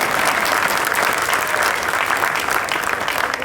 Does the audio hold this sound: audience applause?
yes